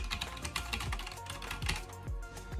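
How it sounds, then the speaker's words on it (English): Typing on a computer keyboard bought from Amazon, part of a gaming room setup: a steady, close run of crisp keystrokes with uneven rhythm and no talking. "got this keyboard from Amazon."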